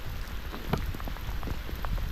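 Heavy rain pours down during the rainy season in rural Thailand, a dense close patter of drops drumming on surfaces without pause.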